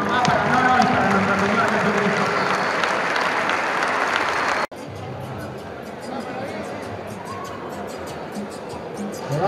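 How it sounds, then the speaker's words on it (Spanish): An audience at a community boxing event in Ezeiza applauds a boxer's mother with loud, dense, sustained clapping mixed with cheering and crowd chatter, briefly dropping off midway before continuing slightly quieter. "un fuerte aplauso para esto"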